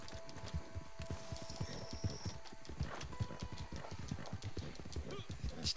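Horse hooves clip-clop at a steady galloping rhythm in Red Dead Redemption 2, close and continuous under game ambience, with an occasional whinny and some talk over the top.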